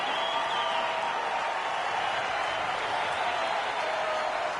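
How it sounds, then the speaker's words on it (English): A home arena crowd at an NHL playoff ice hockey game, Boston Bruins against Tampa Bay, keeps up a steady, dense roar of cheering that stays loud and even throughout. "The home crowd is pretty excited about that."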